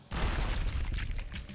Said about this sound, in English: That was an explosion.